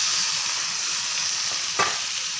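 Chicken gizzards fry in a pan with garlic, onion and tomato, giving a loud, steady close sizzle with a single scrape of the utensil partway through, no voices.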